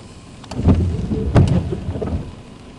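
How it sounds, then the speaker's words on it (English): Winter storm with rain and deep rumbling gusts, swelling in a few loud bursts over a steady wet background noise. "this is what a winter storm looks like"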